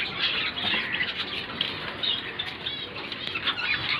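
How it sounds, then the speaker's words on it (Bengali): Budgerigars beat their wings inside a cage in a steady, close flutter of soft flapping that runs throughout, with faint squawks and chirps mixed in and no talking. "সবার প্রিয় পাখি বদ্রিকা, যেটা আমার কাছে আছে কিছু।"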